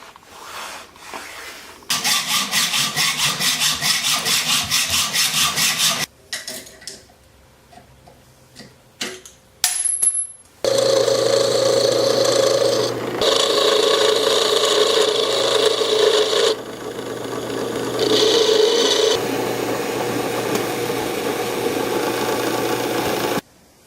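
Wood is hand-sawn and filed while making a wooden miter gauge for a table saw. Long, rhythmic rasping strokes come in close bursts, separated by quiet pauses and a sharp click.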